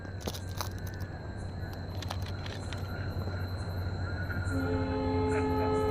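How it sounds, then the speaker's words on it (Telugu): A train rumbles past with a sustained horn blast toward the end, the low steady roar of wheels underneath. "ఈ ట్రైన్ సౌండ్ ఒకటే"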